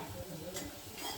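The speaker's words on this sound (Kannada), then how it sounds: "ಈಗ ಈರುಳ್ಳಿ ಚೆನ್ನಾಗಿ ಫ್ರೈ ಮಾಡ್ಕೋಬೇಕು" Onions frying in a pan, heard as a faint, steady sizzle with light stirring clicks, quiet and close with no voices.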